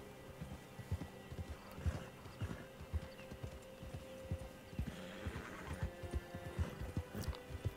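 Horse in the video game Red Dead Online, with steady clip-clop hoofbeats throughout and a whinny partway through, close and fairly loud against faint game ambience.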